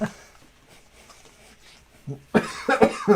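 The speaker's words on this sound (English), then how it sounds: "I'm coughing." A person coughs several times in a short, harsh burst near the end, after a stretch of quiet background.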